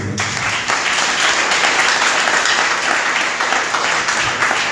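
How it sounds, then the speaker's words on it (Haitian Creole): A church congregation applauds loudly and steadily during a sermon, with dense, sustained clapping throughout. "On nous applaudit."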